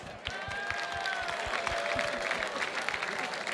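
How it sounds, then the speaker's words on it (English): An audience at a mountaineering club's annual gala gives a big round of applause. Full, continuous clapping is heard with a few faint voices and cheers mixed in. "So let's give them a huge round of applause."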